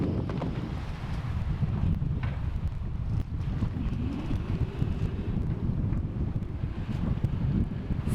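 Steady wind buffets the microphone aboard a sailboat running downwind in about 8 knots of apparent wind, a loud continuous low rumble with no voices.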